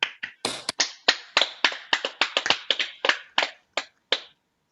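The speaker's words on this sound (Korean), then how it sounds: "박수를 한번 크게 치면서 시작을 해보겠습니다" Hand clapping in a temple service, a series of sharp, separate claps at an irregular pace, loud and close, ending abruptly and followed by silence.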